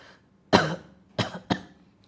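Three sharp coughs sound close by, one on its own and then two in quick succession, with quiet in between.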